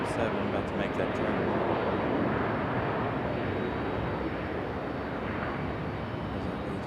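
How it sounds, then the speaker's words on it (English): An Airbus A321 airliner at Raleigh Durham airport produces a steady, broad roar of jet engines that holds loud and even throughout, with wind buffeting the microphone. "There's an A321 headed back to Charlotte."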